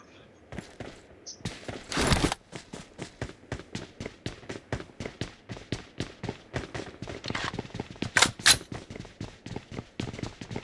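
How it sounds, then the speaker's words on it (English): Rapid gunfire in a PUBG Mobile esports match, heard as dense runs of sharp shots with a few louder bursts near the middle and later, mixed with background game noise and some talk. "it looks like the bullets have actually started to ring out"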